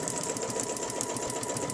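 A sewing machine runs steadily while stitching a quilted circle of circles, the fabric guided round a quilting ruler; a continuous close, even motor whir with a fast rapid needle patter and no pauses.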